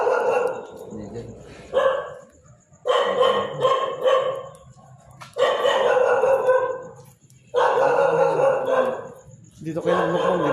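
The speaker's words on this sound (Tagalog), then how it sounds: "Galit yung aso." An angry dog barks in a cemetery, with bursts of barking running through the clip alongside people talking nearby.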